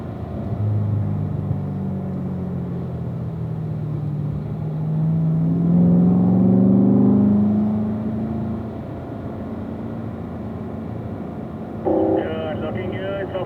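A Corvette on a race track at a driving school builds speed again, its engine rumble rising to a louder, higher-pitched swell mid-clip before easing back, steady throughout with a brief knock near the end.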